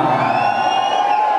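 A live crowd at a music hall show in Maringá roars and cheers continuously, a dense, loud wall of shouting voices with high whoops rising above it and no gaps.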